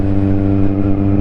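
Kawasaki Z1000R motorcycle exhaust idling and revving steadily up close, a loud, continuous deep engine drone with a throbbing low rumble and no other sounds.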